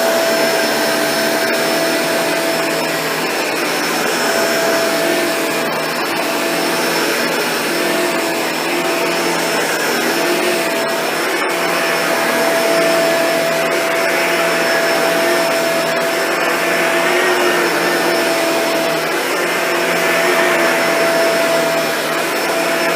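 Shark Navigator Zero-M vacuum cleaner running in carpet mode over medium pile carpet, a loud steady motor drone with a high whine held throughout, no talking.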